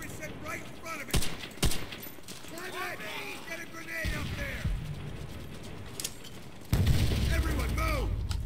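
Battle gunfire in Call of Duty: World at War, on the Hard Landing mission, rattles at moderate volume with scattered sharp shots and mechanical clatter, under background voices and a heavier rumbling surge near the end.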